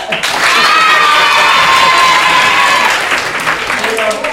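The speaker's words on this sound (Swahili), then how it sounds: "Kuna mwalimu Pierre, makofi kwake." A crowd of secondary school students bursts into loud applause mixed with cheering and shouting voices, sustained for several seconds before tapering slightly.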